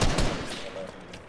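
Gunfire from a Fortnite video game, a dense burst of rapid shots filling the brief moment, loud and close with a voice faintly mixed in.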